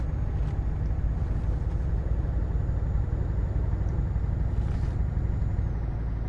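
A Scania truck engine in Euro Truck Simulator 2 drones steadily while driving, a continuous low rumble at even loudness with faint higher hiss above.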